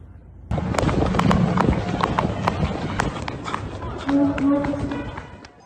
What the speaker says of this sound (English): Is that a cop on a horse?